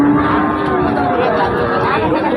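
Sahiwal, local and young heifer cattle at a busy livestock market in Joypurhat give a low, sustained moo over steady crowd chatter and background voices.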